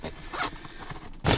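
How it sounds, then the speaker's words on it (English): A zipper runs closed on a compact kit bag, with a close rasping pull and a brisk final zip at the end. "I'm going to zip this thing back up."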